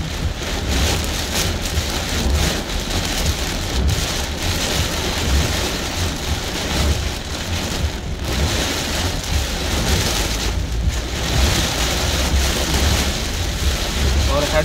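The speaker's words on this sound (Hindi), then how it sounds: "बारिश जो है ना पानी की तरह ही आ रही है" Heavy rain pours during Cyclone Shaheen in Muscat, Oman, a loud, dense, continuous hiss of water falling without pause.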